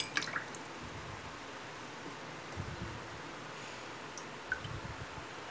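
A freshly wetted object drips water, with soft splats and faint trickling against a low rustling background, a couple of sharper drops standing out, close and quiet with no voices.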